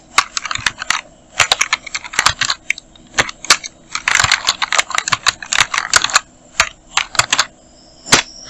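Rapid typing on a computer keyboard while working in Photoshop on a calendar design, with irregular bursts of sharp, close key clicks and short pauses throughout.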